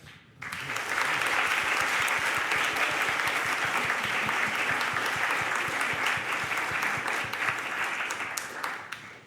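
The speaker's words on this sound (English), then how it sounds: "please give a final round of applause to our fantastic microtalkers" A conference audience at a game developers' event bursts into loud, sustained applause for a group of short-talk speakers, with dense, even clapping that starts abruptly and holds steady before easing slightly at the end.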